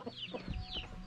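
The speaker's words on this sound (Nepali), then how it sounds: "कुखुराहरू कुखुरा त साह्रै बिस्तार निस्किन्छ है।" Chickens cluck softly and close by in a rural village yard as they come out of their coop, a brief burst of low clucks with no talk.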